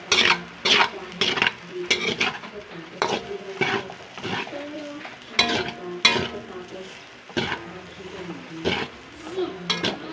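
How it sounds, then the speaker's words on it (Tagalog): Garlic fried rice (sinangag) stir-fried in a pan, with sharp scraping and clattering strokes of a utensil over a steady sizzle, close and loud, while a voice talks intermittently. "Fried rice tayo."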